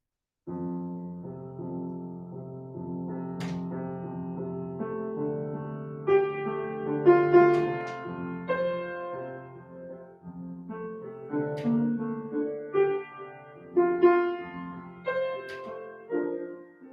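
Orchestral music plays the slow, lyrical second movement theme, swelling and fading in gentle phrases, with sustained strings and no voices.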